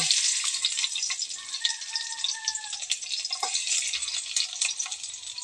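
Garlic frying in oil in a pan gives a continuous, bright crackling sizzle that stays steady and close throughout, with no voices.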